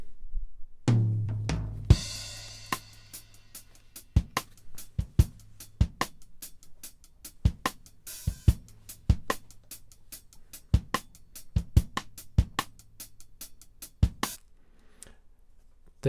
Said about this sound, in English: We're going to start with this drum loop.